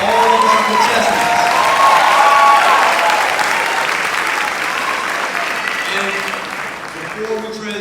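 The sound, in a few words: audience applause for the contestants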